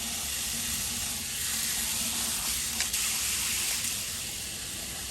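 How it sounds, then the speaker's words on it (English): A portable propane tankless water heater's shower head sprays on its jet stream setting, a steady, close hissing spray of water that stays even, with no voices. "That's the middle setting. It's like a jet stream."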